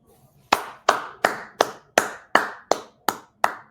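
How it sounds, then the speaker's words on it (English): Hands clap nine times at a slow, even pace, about three claps a second, each crisp and close against near silence, with no voices heard. "Round of applause."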